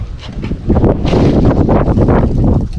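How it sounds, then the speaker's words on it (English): Strong gusts of wind roar and buffet the microphone up close, rising after a moment and rumbling on unevenly. "wow, it's windy here today"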